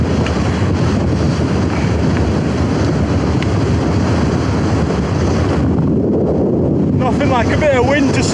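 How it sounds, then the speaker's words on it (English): Strong, gusting wind roars loudly and continuously across the microphone on a mountain ridge in the Lake District near Coniston, with some faint birdsong near the end. "Nothing like a bit of wind to slow you down, eh?"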